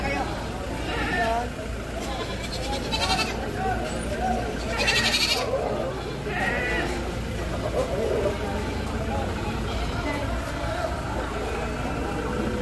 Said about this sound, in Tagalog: Maginang kambing.